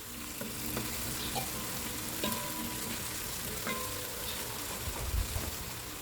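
Onion, garlic and ginger sizzle steadily in a pot for arroz caldo, with scattered scrapes and clinks of stirring over a constant frying hiss.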